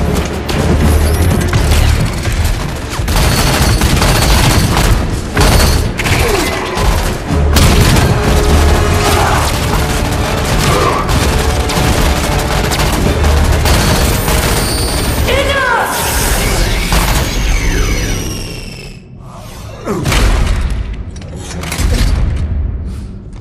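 Dense, loud Halo video game battle with continuous gunfire and booming explosions that pile up for most of the stretch, then break off briefly before more blasts return.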